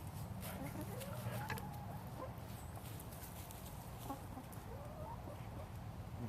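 A wet, chilled hen that has just fallen into a pond, making faint, soft clucks over a steady low background rumble.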